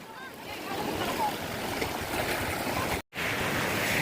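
Rough surf washes onto a beach at Pioduran, Albay, as a steady, loud wash of breaking waves and wind noise. It is briefly cut off near the end, with faint voices in the background.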